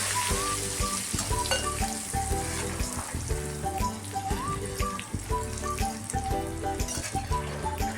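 Banana slices tinted with turmeric water deep-frying in hot oil over a low gas flame for crisp chips: a dense, continuous close sizzle with bubbling crackle, joined by a light whistling melody running throughout.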